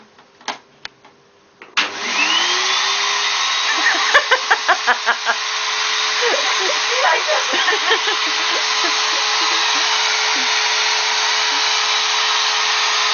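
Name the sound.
vacuum cleaner running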